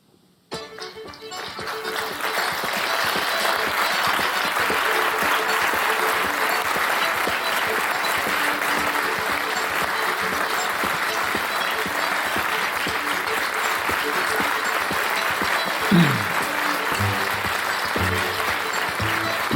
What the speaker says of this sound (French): Merci d'applaudir chaleureusement les comédiens du théâtre Côte à Côte.